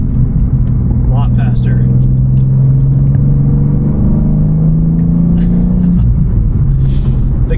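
A BMW G87 M2 engine hums and rises in pitch while driving, with a clear drop in tone as gears change; someone talks over the engine.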